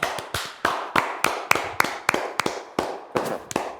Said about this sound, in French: on peut applaudir Ludo pour ça.